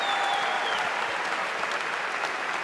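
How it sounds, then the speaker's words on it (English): A large arena crowd applauds an MMA fighter, Juba Beridze, after a fight, the clapping dense and steady throughout without a break, with faint talk mixed in beneath it. "He's getting a huge round of applause."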